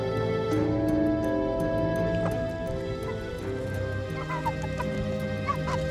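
Chicken clucking as the bird is held up in front of an idol for a ritual sacrifice, the calls close and steady over a busy, droning background with no one speaking.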